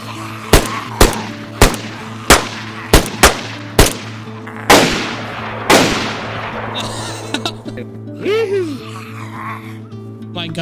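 Sharp, loud single gunshots from a firearm in the survival game DayZ, fired in a quick series of about ten with short gaps and echoing tails, with voices and laughter briefly heard near the end.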